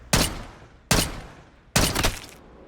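Three loud, evenly spaced bursts of gunfire from Call of Duty Black Ops 6, each a sharp blast with a short decaying tail, close and prominent.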